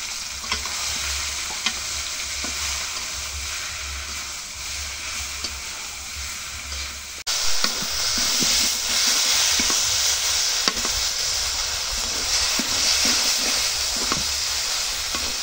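Greens go into a pan of fried chili and onion, the steady frying hiss jumping louder midway as they hit the oil, then a broad, continuous sizzle with occasional stirring scrapes.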